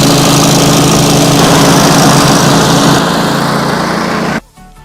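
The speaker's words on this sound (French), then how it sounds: "Et ensuite, on met la manette de gaz à fond." Small petrol engine of a BVN452019 wood chipper running steadily at full throttle, a loud, close, continuous drone that drops off sharply just before the end.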